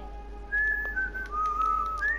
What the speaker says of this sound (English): I hear whistling noises.